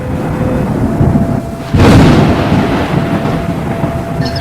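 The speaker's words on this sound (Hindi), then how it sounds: "लगातार 4-5 दिन तक बारिश होती है।" Heavy cartoon rain hisses steadily until a loud crack of thunder bursts in close about halfway through, then rolls on under the continuing downpour.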